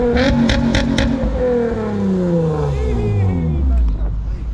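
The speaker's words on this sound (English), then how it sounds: "I guess I'll get one rev out of you." A car engine revs at a Super Bowl day car meet, rising and falling in pitch over several seconds, loud and close, with people talking and shouting over it.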